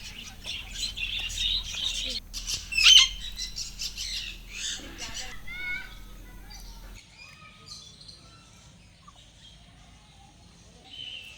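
Colourful birds at Nandan Van bird sanctuary in Chhattisgarh squawk and chirp in scattered calls, louder and busier at first, with one sharp burst near the start, then thinning to fainter distant calls over a low background hum.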